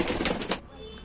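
A pair of Chinese kaldam pigeons coo briefly with a soft flutter of wings, close and short, then fall quiet.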